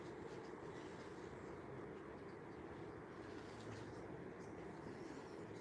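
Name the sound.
locomotive passing at Acton Bridge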